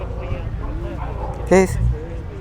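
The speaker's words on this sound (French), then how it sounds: "Là on a un chien." Dog at an outdoor classic and sports car gathering gives a single sharp bark partway through, while someone talks nearby over light background noise.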